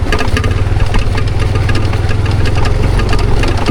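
A motorcycle engine labours over a rough forest road, a loud close chugging rumble with rattling vibration and knocks from the uneven track.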